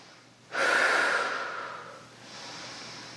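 A single long, breathy exhale during a yoga flow, close and fairly loud at first, then tapering off, followed by a quieter breath.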